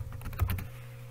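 Quick run of keystrokes on a computer keyboard while a folder name is typed in Windows 10, several close light taps clustered together then trailing off, no talking.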